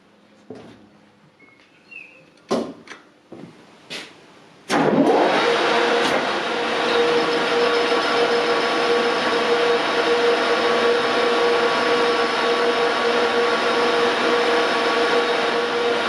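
An Okuma LS lathe starts up and cuts its first chips, a few sharp knocks and clicks giving way to a steady, loud machine drone with a whining tone that runs on without a break.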